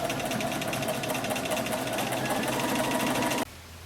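Sewing machine running a straight stitch at 2.5 length along the bottom seam of a fleece cloche hat, a fast even mechanical whir with rapid needle ticks that stops abruptly near the end.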